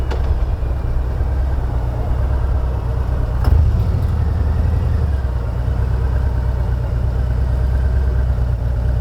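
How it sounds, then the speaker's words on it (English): A Harley-Davidson motorcycle with Reinhardt pipes idles steadily nearby, its low, fairly quiet engine thrum holding an even rhythm, with a brief louder bump partway through. "It doesn't sound bad. It's just not a very loud bike."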